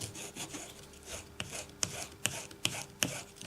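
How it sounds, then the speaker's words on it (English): A steel graver being rubbed on leather to polish it makes soft, close scraping strokes, starting as gentle rubbing and turning into sharper, regular swipes about every half second, with no voices. "So this is just leather I'm using as well. Bit of a rub on that and get a really good bright finish on that."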